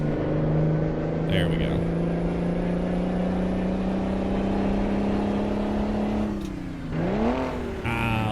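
A truck engine in American Truck Simulator drones at steady revs, then dips and climbs again through a gear shift near the end, with a man's brief remark over it.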